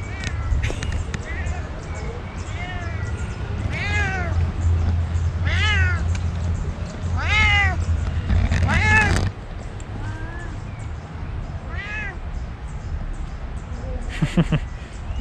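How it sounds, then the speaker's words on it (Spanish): A black cat meows repeatedly in a garden setting, several clear rising-falling cries spaced a couple of seconds apart, fairly close, over steady background noise with some talk. "¡Un gato negro!"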